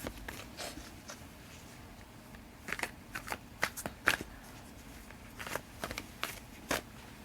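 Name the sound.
shuffling tarot cards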